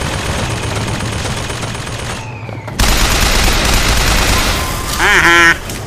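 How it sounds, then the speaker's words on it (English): Enemies trade rapid automatic gunfire in the Bioshock Infinite video game, loud bursts and fusillades with a sharp cut midway, followed by a brief electronic chirp near the end. "Now they'll just shoot each other."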